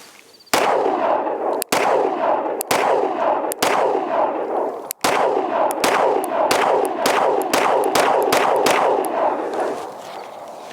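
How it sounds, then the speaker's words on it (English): A Springfield Hellcat Pro pistol fires 115 grain rounds in about sixteen loud, sharp shots at an uneven pace, slow at first and then quicker, with room echo after each report. "these are going to be my first rounds through the new Springfield Hellcat Pro"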